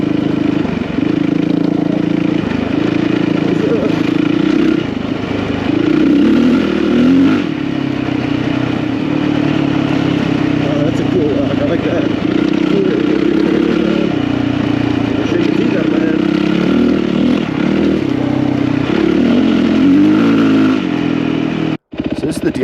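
A Yamaha WR450 dirt bike rides through sand in the desert, its engine droning loud and close with steady revving that rises and falls over wind buffeting, with a voice talking throughout.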